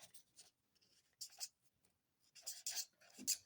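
A pen scratches across paper in a few short bursts of writing, close and quiet, with pauses in between and no talking.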